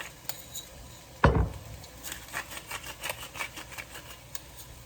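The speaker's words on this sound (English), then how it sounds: "I'm gonna continue to stir them up" Vegetables for a Philly cheesesteak stirred in a pan, with utensil clinks and scrapes against the cookware, one louder clank near the start followed by a steady run of lighter taps and scraping, no talking.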